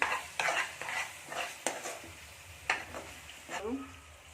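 Fish curry with softening tomatoes is stirred in a pot for a Telangana-style gravy, with scraping spoon strokes against the metal and a soft simmering sizzle, plus a few clinks.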